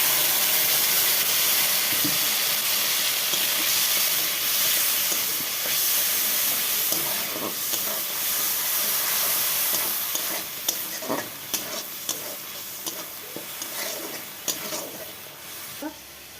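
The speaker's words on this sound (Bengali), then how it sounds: "বেটে রাখা মশলাটা দিয়ে দিলাম" Ground spice paste lands in hot oil with dried chillies, bay leaves and black cumin, for a prawn dish. A loud, steady frying hiss runs close, and sharper stirring scrapes and crackles pick up toward the end.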